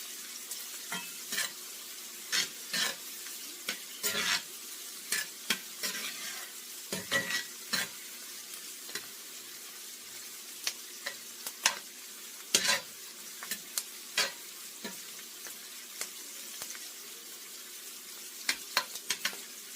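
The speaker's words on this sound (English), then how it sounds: "I'm just trying to stir them around so they, so they all can get the heat and start cooking for me." A spoon stirs chopped vegetables frying in a pot for chili, giving scattered scraping knocks and clinks at an irregular pace over a faint background sizzle, with no talking.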